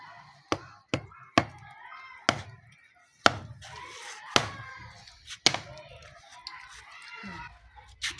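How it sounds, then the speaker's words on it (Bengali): A knife chops a tomato in a series of sharp, irregular thuds, each a crisp strike with a brief silence after it, while chickens cluck faintly in the background. "এখন এই তালে টমেটো কাটবো কেটে তারপর এটাও কিন্তু খাবো"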